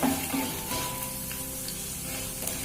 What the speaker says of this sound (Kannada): ಕಡಲೆ ಬೀಜ ಮತ್ತೆ ಗೋಡಂಬಿ ಹಾಕೊಳ್ತಾ ಇದ್ದೀನಿ. ಒಂದು 2ರಿಂದ 3 ಸ್ಪೂನು ತಗೊಳ್ಳಿ. ಈ ತರ ಫ್ರೈ ಮಾಡ್ಕೊಳ್ಳಿ